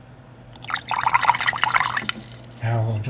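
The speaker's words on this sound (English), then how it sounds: "Now we'll just have a quick rinse out again." Paintbrush rinsed in a water pot between purple paint mixes for miniature painting, close splashing and dripping with a brief steadier trickle near the end, no voices.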